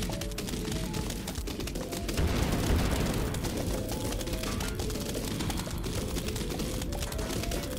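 Rapid continuous gunfire from a zombie emptying its ammunition in a Plants vs Zombies game, a dense loud barrage running steadily through the whole stretch amid busy game sounds.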